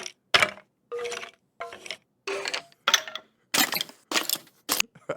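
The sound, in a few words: Minecraft skeleton sound effect, from a video game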